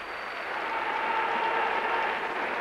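An arena audience at the 1998 European gymnastics championships in St Petersburg applauds steadily from a distance. The sound is an even, continuous wash of clapping, without voices.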